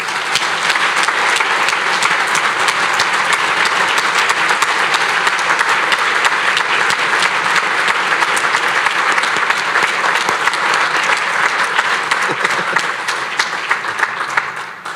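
At a sports all-stars awards gala, a large audience claps loudly and continuously, a thick, even wash of hand claps that holds steady from start to finish.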